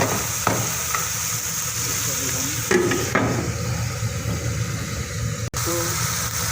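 Chicken and onions with white pepper and soy sauce frying in a pan, a steady loud sizzle with occasional scraping stirs and knocks, no voices.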